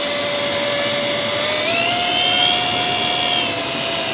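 Fixed-pitch RC helicopter flying nearby, its steady high motor and rotor whine holding for about four seconds, rising slightly in pitch midway before settling, with no talk.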